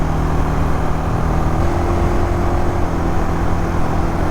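Motorcycle engine running steadily at about 4,800 RPM at 55 mph on the winding Ozello Trail in Florida, a constant close droning hum with wind rush and no talk.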